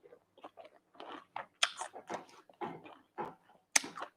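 Crunchy adobong sitaw, Filipino green beans braised with caramelized onion and a little chili, chewed close up in a run of crisp, uneven bites and crunches with short pauses between them.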